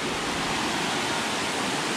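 Erawan Waterfall in Kanchanaburi, Thailand, heard just below its seventh tier: a loud, steady, close rush of falling water that fills the whole moment without a break.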